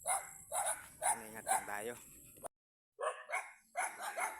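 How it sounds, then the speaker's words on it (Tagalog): Several pet dogs bark in short repeated bursts close by at a seaside home, mixed in with a person talking, and the sound drops out briefly in the middle. "Daming aso"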